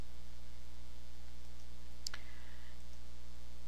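A single crisp computer mouse click on a word-processor's Review tab, alone over a steady electrical hum, no talk.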